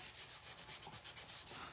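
High-grit sandpaper rubbed around the edges of painted wooden carrots in quick, steady back-and-forth strokes, close and continuous with no talking.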